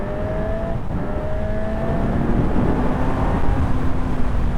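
Honda CB 1000 Hornet motorcycle accelerating hard to overtake a truck, a loud, steady engine roar rising in pitch over wind rush, with no talking.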